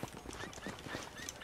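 Horse hooves clopping in Red Dead Redemption, a brief quick patter of hoofbeats mixed with game ambience.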